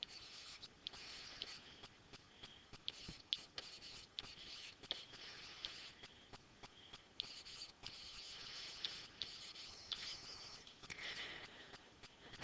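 Soft scratching of a pen writing coordinates by hand on paper, close and faint, in short irregular strokes with small pauses and no talking.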